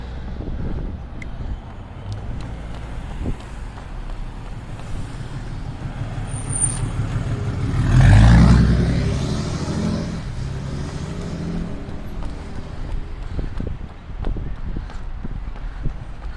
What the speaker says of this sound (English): this is the traffic I was telling you about